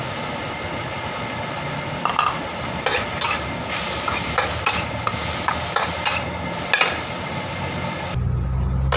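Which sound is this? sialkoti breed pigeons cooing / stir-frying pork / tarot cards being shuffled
stir-frying pork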